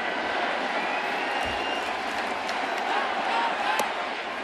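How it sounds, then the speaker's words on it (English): Baseball stadium crowd in the Bronx during a Rays–Yankees game, a broad steady roar of cheering and scattered applause that stays loud and constant throughout, heard from within the stands at a distance. "Crowd's into it again."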